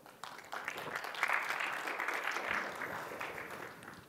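An audience claps to welcome a speaker at a tech platform presentation, applause swelling after a brief start and holding steady, moderately loud and without talk.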